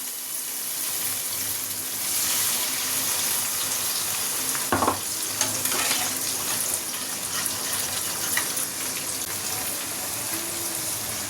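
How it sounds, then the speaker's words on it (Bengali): Water is poured into a pan of sizzling spice masala for a Bengali fish curry, and a loud, steady frying hiss and bubbling fill the clip alone, with a brief splash partway through. "এবার এর মধ্যে দিয়ে দেবো জল।"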